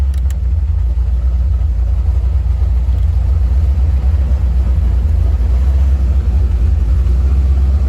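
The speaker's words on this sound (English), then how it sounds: "I can't even hear anything because the engine's running." A C4 Corvette engine running at a steady idle inside the car, a loud constant low rumble with no talk.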